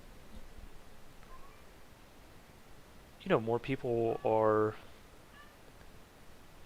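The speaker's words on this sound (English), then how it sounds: "Just my cat meowing." A pet cat meows several times in close succession, loud and near against a quiet room, with someone speaking faintly before and after.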